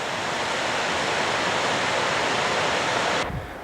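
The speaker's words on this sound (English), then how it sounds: "Nice little waterfall as it slides down the rocks." A small waterfall slides down rocks high in the Cascades, a steady broadband rush of falling water holding even and close for several seconds before it abruptly drops away near the end.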